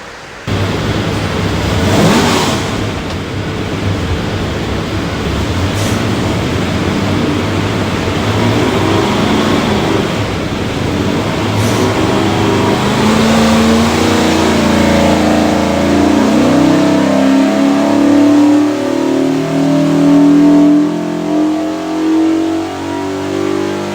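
Ford 347 V8 with a Holley Terminator X fuel management system, built for a 1930 Ford, revs hard on an engine dyno, its loud steady roar climbing in pitch through a long continuous pull with no talking.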